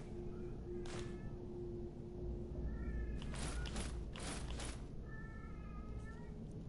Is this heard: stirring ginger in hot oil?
no